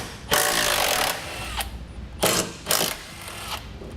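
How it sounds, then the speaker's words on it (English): A 14mm socket loosens the mounting bolts for a Curt trailer hitch receiver on a 2010 vehicle, heard as short, close bursts of rapid mechanical whirring separated by pauses. "Now to remove these, we'll use a 14mm socket."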